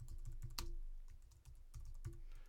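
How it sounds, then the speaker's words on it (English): Typing on a computer keyboard while entering a phone number, a quiet, close, irregular run of soft key clicks with a couple of sharper taps and brief pauses. "You type in a phone number"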